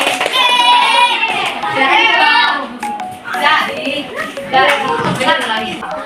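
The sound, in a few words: children clapping for Joni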